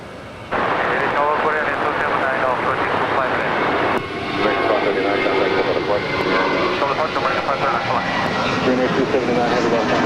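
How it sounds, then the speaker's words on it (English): American 539, an Airbus jet, departs LAX for Austin with a loud, close jet roar that swells after a quiet start and holds strongly throughout, with people talking over it. "That was American 539 departing to Austin."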